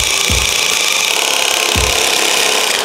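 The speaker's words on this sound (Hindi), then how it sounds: "तो ये नट टाइट करते हैं पहले और आपको सुनाता हूँ उसकी आवाज़।" Tightening a nut on a motorcycle engine during crank-noise repair work, heard as a steady bright rasping, grinding tool sound with two low thumps, close and loud throughout.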